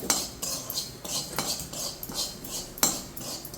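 Mustard seeds fry and get stirred in a hot pan for a Ballari-style tomato pickle, giving repeated sharp metallic clinks and scrapes of a spoon against the pan over a steady crackle, close and moderately loud.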